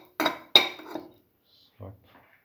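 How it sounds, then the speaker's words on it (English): Cardamom pods dropped into a cooking pot while making a watermelon and coconut milk vermicelli soup: two quick clattering rattles close together, then a softer knock a moment later, in otherwise quiet surroundings. "Put in the cardamom pods."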